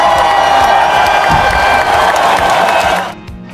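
Children and staff at a primary school celebration assembly break into loud applause mixed with cheers and whoops, a dense crowd roar that cuts off abruptly near the end.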